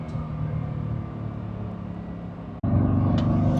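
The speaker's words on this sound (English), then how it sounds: "the V8 engine in this car" The V8 engine of a 1968 Ford Mustang GT Fastback idling with a low, even rumble, then a brief dropout and a louder, fuller engine note.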